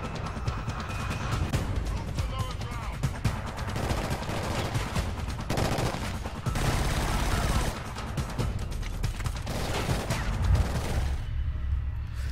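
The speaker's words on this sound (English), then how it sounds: "Who the fuck is shooting me?" Gunfire in Killzone Shadow Fall, with dense, continuous bursts of automatic and rapid shots throughout, loud and close, and brief pauses in the firing.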